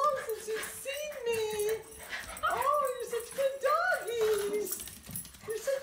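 Several dogs whimper, whine and yip excitedly in greeting, with rising and falling high-pitched cries repeating close by while a person talks over them.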